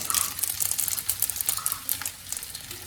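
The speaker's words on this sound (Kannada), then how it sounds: "3 ಟೇಬಲ್ ಸ್ಪೂನ್ ಆಯಿಲ್ ಹಾಕಿದ್ದೀನಿ. ಅದಕ್ಕೆ ಸ್ವಲ್ಪ ಮಸ್ಟರ್ಡ್ ಸೀಡ್ಸು ಹಾಕಿದ್ದೀನಿ, ಸ್ವಲ್ಪ ಜೀರ ಹಾಕ್ತಿದ್ದೀನಿ" Mustard seeds and cumin sizzle in three tablespoons of hot oil in a pan, a close, steady crackling fry with scattered sharp pops and light spattering throughout, no voices.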